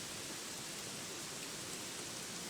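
Steady rain falling in the video game Gothic 3, a constant broadband hiss filling the whole stretch at a soft, even level with no voices over it.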